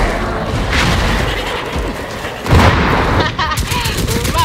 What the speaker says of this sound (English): Get to a safe distance and I'll detonate them.